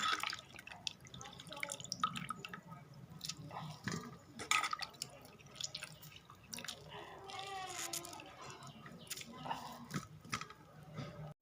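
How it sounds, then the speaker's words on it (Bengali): Soybean chunks being squeezed and washed by hand in water, with steady dripping, splashing and squishing throughout, fairly close and moderately loud, no talking. "সয়াবিনটাকে এইভাবে চেপে চেপে ধুয়ে নিতে হবে, যেন সয়াবিনের মধ্যে কোনো পানি না থাকে"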